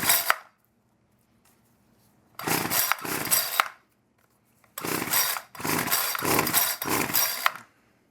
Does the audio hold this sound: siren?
no